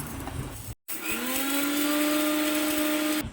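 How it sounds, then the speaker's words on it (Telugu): A kitchen mixer grinder whirring as fried masala spices are ground into powder, a loud steady motor whine with a brief cut in power, then it spins back up and runs until stopping. "ఇందాక వేయించుకున్న మసాలాని పౌడర్ లాగా గ్రైండ్ చేసి పెట్టుకోవాలి"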